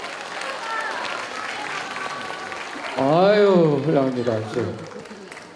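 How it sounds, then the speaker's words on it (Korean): An audience at a high school admissions information session claps while greeting one another, a steady patter of hands through the first seconds before a voice speaks over it as the clapping thins. "서로 옆과 앞뒤를 보면서 박수 치면서"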